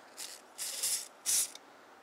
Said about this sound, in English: Spray up to the main jet.